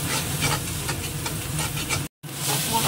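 Spice paste frying and being stirred in a pan, a steady close sizzle with soft scraping strokes, briefly cut out near the end before resuming.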